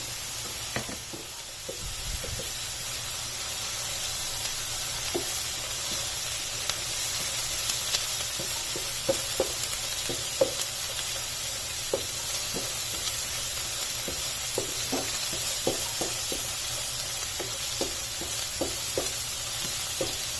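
Steady frying sizzle and hiss of garlic ginger paste in a pan, with occasional clicks and light stirring taps throughout, no voices.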